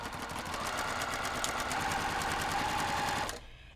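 A sewing machine stitches along a line on quilt fabric in a steady, rapid mechanical whir, running continuously at close range before stopping abruptly.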